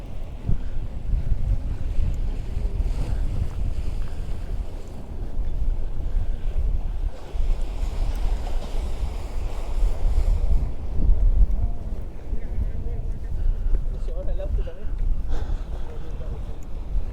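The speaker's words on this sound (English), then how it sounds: "That was a big gust of wind." Strong, steady wind gusts buffet the microphone by the sea at Portixol, Mallorca, with waves and a boat's presence underneath, the roar swelling and easing throughout.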